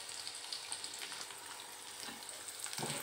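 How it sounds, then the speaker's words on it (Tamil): Dried red chillies, curry leaves and garlic fry for beetroot chutney in a soft, quiet, continuous sizzle, with a brief stirring scrape near the end. "வரமிளகாய், கருவேப்பில் தழை, பூண்டு, இதெல்லாம் வதக்கி விட்டுடலாம்."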